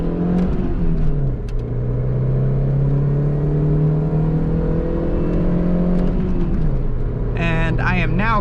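A Mercedes A-Class accelerates at full throttle, its engine note climbing steadily in pitch, then dropping at a gear change before rising again. The sound is loud and close, heard from inside the car.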